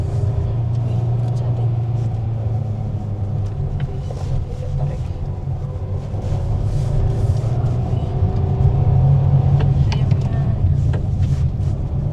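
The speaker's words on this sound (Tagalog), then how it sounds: "magpo-first gear na ako kasi naka-manual tayo" A manual car pulls away in first gear at the start of a long road trip, with a steady, close engine rumble that swells slightly and people talking inside the cabin.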